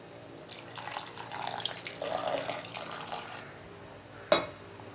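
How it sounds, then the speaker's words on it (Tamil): Water pours and splashes into a pot of shallot garlic curry for a few seconds, followed by a short sharp clank near the end. "தேவையான அளவுக்கு தண்ணியும் இப்போவே நம்ம சேர்த்துக்கலாம்."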